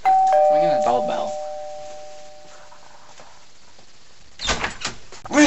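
A doorbell sounds with a sustained two-tone ding that rings out and slowly fades, followed by voices talking nearby.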